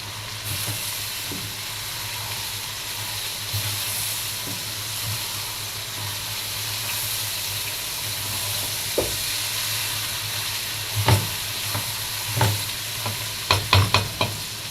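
Cumin frying in a pot for fish-and-rice cooking, with a constant soft sizzle, then sharper scraping stir strokes late on, close and moderately loud.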